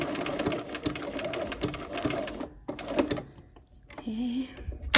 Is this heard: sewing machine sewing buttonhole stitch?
yes